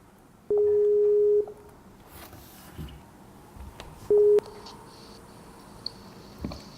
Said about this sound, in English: Dann rufen wir den guten BadBenny mal an.